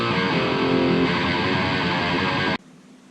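Heavily distorted thrash metal guitar through an Engl Savage mk2 amp, miked with a Neumann TLM-102, playing a dense sustained riff alone and loud before stopping abruptly.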